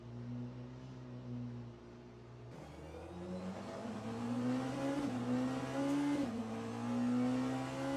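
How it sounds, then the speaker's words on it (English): A Porsche RS Spider race car engine in Le Mans Ultimate drones loudly with strong, steady harmonics, stepping up through revs in several rising pulls and brief shifts, heard alone without talk. "I do love how the Porsche sounds, though. That old RS Spider motor."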